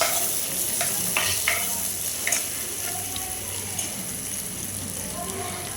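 Green chillies and curry leaves sizzle and crackle in a hot pan while being stirred, with a steady frying hiss and a few sharper scraping and popping bursts, under faint talk.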